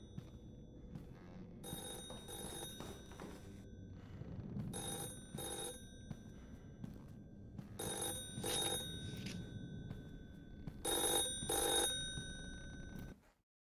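A telephone rings in a horror video game: repeated bursts of a shrill electronic bell, four or five rings with pauses between them, over a low droning ambient background.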